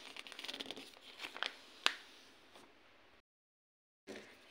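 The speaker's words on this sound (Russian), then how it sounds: "Также берем ножницы и нарезаем 3 миллиметра." Scissors snipping through thin folded paper, brown on one side and white on the other, cut into narrow strips for gift-box filler; several close crinkly snips and rustles, then a brief silence and one more cut, no talk.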